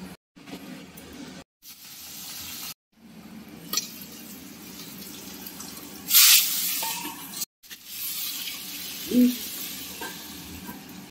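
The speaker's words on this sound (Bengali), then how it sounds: "মাছটা খুব সাবধানে কিন্তু ভাজা হচ্ছে, ছিটে আসার ভয়।" Tengra fish from the Ganges fry in salted mustard oil with a hissing sizzle and sudden spitting bursts, broken by brief cuts of silence. Nobody speaks.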